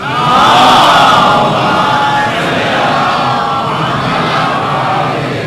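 A large crowd loudly chants salawat in unison, a dense roar of many voices swelling at first and then holding steady.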